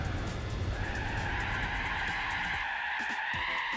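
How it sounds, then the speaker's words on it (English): In Gran Turismo 4, a car's handbrake skid makes a loud, sustained tire squeal over the engine roar, sliding for a few seconds before fading into rougher scrubbing noise. "Yep, that's the handbrake."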